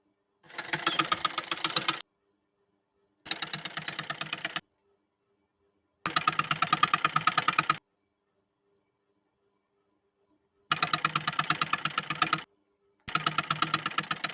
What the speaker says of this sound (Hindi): यहाँ एक किनारे से सिलाई करेंगे ताकि नीचे से भी अच्छे से बैठ जाए